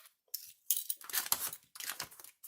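Scissors snipping through plain printer paper in several short bursts of crisp cutting and rustling, close by and separated by brief pauses, with no talk.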